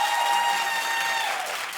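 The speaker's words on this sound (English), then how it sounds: "Clap if you think he looks like Brad Pitt." A television talk show studio audience claps together in a brief burst of applause, loud at first and tapering slightly.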